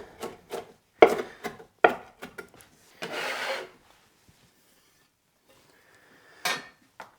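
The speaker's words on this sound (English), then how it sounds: "let me just run my knife through and get it all really fine" A knife taps and scrapes against a cutting board in quick bursts of finely chopping herbs, with a brief rasping slide and pauses between strokes.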